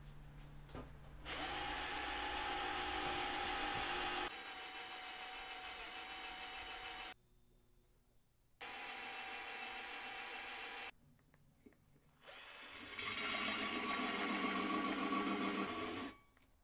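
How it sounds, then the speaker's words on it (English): A power drill boring a small pilot hole in steel, part of a sword forge build, running in three long bursts with short pauses between, loud and close with a steady high whine. "we're going to drill a small hole for the little inside drill bit to follow"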